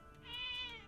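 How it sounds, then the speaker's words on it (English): A cat in the Zelda: Echoes of Wisdom video game gives a single short, clear meow, faint and alone. "There are so many cats in this house."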